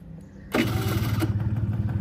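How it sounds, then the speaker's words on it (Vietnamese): A Honda Giorno 50cc two-stroke scooter fires up abruptly after a quiet moment, then settles into a steady, close, fairly quiet buzzing idle. "đây em nổ máy cho anh em nghe luôn ha"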